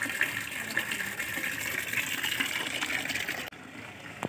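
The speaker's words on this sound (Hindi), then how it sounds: "इधर हम पानी भर रहे हैं" Water gushing steadily from a tap to fill a container on a rooftop in the evening, a continuous close splashing rush that shifts in tone near the end.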